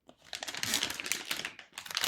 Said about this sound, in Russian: Давайте мы откроем стоечку с пакета.